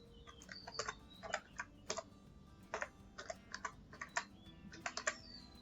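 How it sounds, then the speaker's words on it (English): Keys clack on a computer keyboard as a command is typed into a terminal to install a Laravel project: quick, irregular bursts of close taps with brief pauses, heard alone in a quiet room. "Open a terminal and type"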